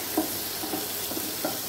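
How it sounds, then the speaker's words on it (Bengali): Shrimp fry with spring onion in a mustard-and-green-chilli paste and spices. A soft, steady sizzle runs throughout, with a few muffled stirring scrapes at regular intervals and no talk. "মশলার সাথে এটা কিছুক্ষণ আমি একটু কষিয়ে নেব।"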